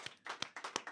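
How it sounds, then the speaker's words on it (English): Audience applause closing a talk show segment about codependency, heard as a short burst of clapping with distinct individual claps at moderate level, no speech over it. "Let's give Paul a round of applause, everybody."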